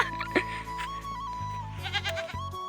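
A goat bleats with a drawn-out wavering call, close and moderately loud, over a steady low background hum.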